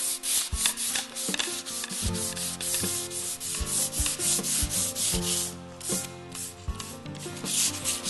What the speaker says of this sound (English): Now that we're wrapping up the sanding process